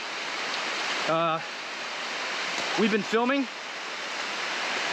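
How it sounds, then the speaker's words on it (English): Heavy jungle downpour in the Darien Gap, a steady broadband hiss of rain running throughout, with a voice speaking briefly over it. "Right now it's pouring rain."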